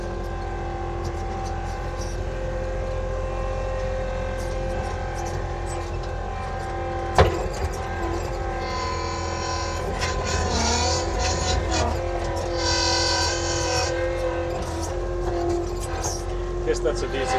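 An Avant compact loader drives while spreading gravel on a construction site. Its engine gives a steady, loud, close drone throughout, with a sharp clunk partway through and some rattling and clatter over the running motor.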